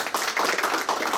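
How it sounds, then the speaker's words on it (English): An audience at a startup founder showcase claps in a short, dense round of applause, steady and fairly loud, heard alone without speech. "Let's give them a round of applause."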